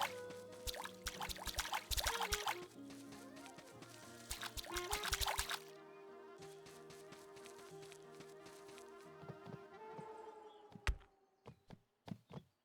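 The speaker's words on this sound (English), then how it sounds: "water the plants." Water pours and trickles onto crops in the farming game Staxel, a steady splashing run followed by scattered knocks and chopping taps near the end, fairly quiet with no talk.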